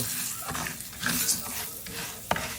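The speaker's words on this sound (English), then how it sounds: "Just put a couple of, let them sizzle." Meat sizzles and crackles steadily in a hot pan, with occasional stirring and scraping noises.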